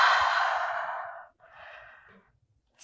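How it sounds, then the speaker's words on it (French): Two slow, deep breaths in a vinyasa flow yoga session: a long airy exhale that fades out, then a softer, shorter breath, both close and quiet with no talking. "Encore quelques respirations ici."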